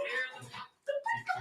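Dogs whimper and yip in the background, a few short, high, tonal cries in separate bursts with brief pauses between them, fairly close and moderately loud.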